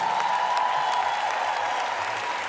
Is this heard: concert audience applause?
yes